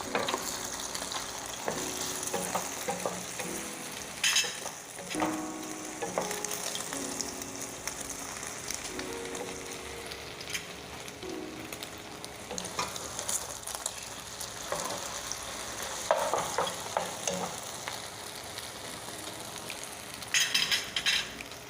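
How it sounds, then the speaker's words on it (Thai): Beaten egg frying in hot oil into a golden, crispy omelette, a dense, continuous crackling sizzle broken by occasional scrapes of a spatula, close and steady throughout with no talking. "เจียวให้เหลืองกรอบเลยนะคะ"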